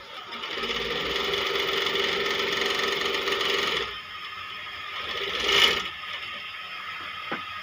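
A Kansai industrial sewing machine stitching fabric runs with a steady, fast mechanical whir for about four seconds, then stops, leaving a quieter hum and one brief clack; close by, no talk.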